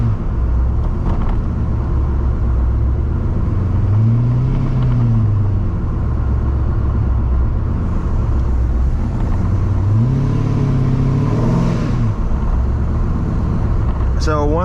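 Chevrolet C5 Corvette V8 engine droning steadily while driving, not yet fully warmed up, with a constant low rumble and a few gentle rises in pitch as it accelerates, all under a speaking voice.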